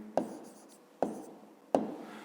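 Three quick pen strokes tap and scratch on paper while a fifth-grade math answer is written down, close and distinct and evenly spaced, each fading into quiet, with no talking.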